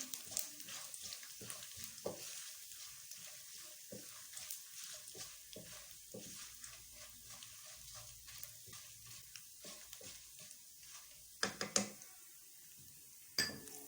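Cinnamon, cloves, green cardamom and black peppercorns sautéing in oil for chicken dum pukht: a quiet steady sizzle with scattered spoon scrapes and clinks against the pan, louder knocks near the end.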